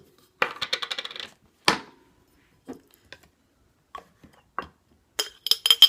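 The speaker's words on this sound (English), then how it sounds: "So we're just adding this into the container, into a clean, empty jar, glass jar." Garlic mixture being scooped into a clean, empty glass jar, giving a run of bright clinks and taps against the glass, a quick rattling burst, then scattered single knocks and a final clatter, close and alone without talk.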